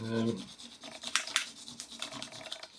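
Crayon rubbing back and forth over paper for a brass rubbing effect makes soft, uneven scratchy strokes, close and quiet, in a short irregular series.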